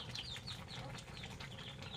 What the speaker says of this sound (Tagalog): Oh, daming manok.